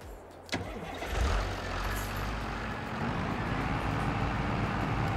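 A farm vehicle in Farming Simulator 22 cranks with a sharp click and starter whir, then its engine catches and settles into a steady, loud low rumble that holds to the end.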